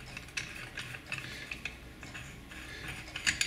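A bearing puller being tightened on a Stihl HL 100 hedge trimmer, giving faint, irregular metallic clicks and ratcheting ticks from close by, with no voice.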